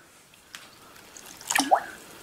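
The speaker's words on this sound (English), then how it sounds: "So, put some more water in." Water is poured into a dough mix of flour in a kitchen, giving a short wet splashing and gurgling burst after a few faint drips, close and fairly quiet.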